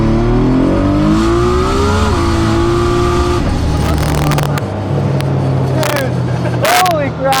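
A 1,200-horsepower Nissan 300ZX street car accelerates hard, its engine note climbing loudly through gears with shifts and sharp pops, while voices speak over it.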